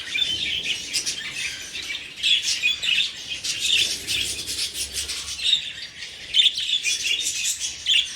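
Parrots in an aviary keep up constant shrill chirps, squawks and whistles, overlapping in lively bursts over a faint low rumble. Heard fairly close and loud, with no talking.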